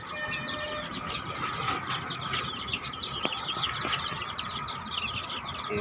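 A flock of chickens clucking steadily nearby, overlapping chatter with occasional louder calls and rustling, against a constant outdoor background.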